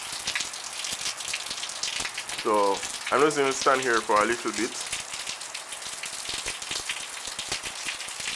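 Hurricane Matthew rain in Florida pours steadily onto surfaces in a dense, close hiss with gusty wind, continuing throughout while someone speaks briefly midway.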